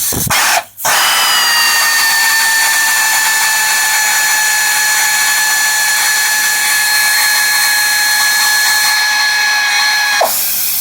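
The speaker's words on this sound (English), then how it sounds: "Get up under here and loosen that bolt up there." A power tool works a bolt on a car's coil-spring suspension, a loud continuous high whining drone with steady tones, briefly cut off near the start and stopping near the end.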